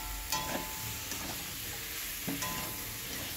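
Vegetables with a pinch of garam masala, cumin powder and a little water sizzle in a pan. A spoon scrapes through them in two short strokes over a soft, steady frying hiss.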